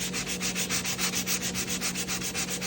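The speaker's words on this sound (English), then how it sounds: "you just keep sanding it until all that shiny stuff's out of there." Steady back-and-forth sanding strokes rub the glossy finish off a wooden cabinet, about a dozen even rhythmic passes, close and continuous with no talking.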